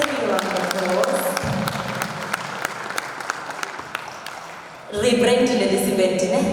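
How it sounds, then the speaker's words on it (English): Audience applause at a live dialogue event, a steady wash of clapping that swells louder and fuller in the final seconds. "Can we give that interview a round of applause?"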